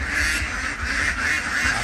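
A flock of ducks on a small backyard duck farm quacks continuously, a dense, layered chorus of overlapping calls heard close and loud with no voices.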